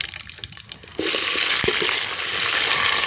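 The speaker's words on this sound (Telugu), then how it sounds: "డ్రై మసాలాలు వేసుకోగానే అవి టపటప వేలుతాయి" Dry whole spices hit hot oil in a pan for chicken fry, bursting into a loud, continuous sizzle with sharp crackling pops, close and alone after a quieter start.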